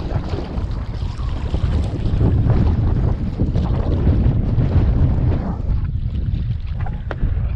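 A boat is paddled along the flooded River Dee, with rushing water and heavy wind buffeting the microphone in a constant loud roar, and paddle splashes barely standing out.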